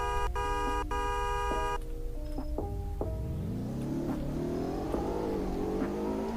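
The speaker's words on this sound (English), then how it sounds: "It has fast acceleration as you would expect from a supercar." A supercar with a nine-speed manual gearbox accelerating hard in the Greenville video game speed test, its synthetic engine tone climbing steadily in pitch after a few electronic beeps.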